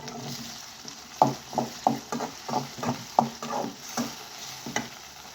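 Chopped tomato and green chilli fry in a pan, a soft sizzle under a run of regular scraping strokes of a spatula, about one every half second, close and moderate in level.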